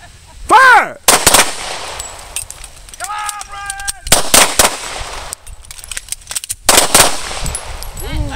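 Rapid, loud gunshots ring out at a shooting range during an emergency magazine exchange drill, with bursts of shots in quick succession, pauses between them, and people shouting and cheering underneath.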